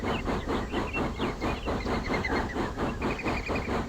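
Steam locomotive sound from the OpenRails train simulator on the Nene Valley Railway route from Wansford to Peterborough: a steady rhythmic chuffing with hissing steam, continuous and fairly loud with no talk.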